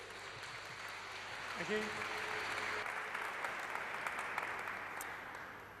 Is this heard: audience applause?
yes